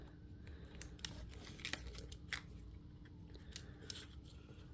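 Scissors snipping through faux ceiling tile for a Christmas ornament, a run of close, crisp cuts at an uneven pace with light crinkling of the material between them.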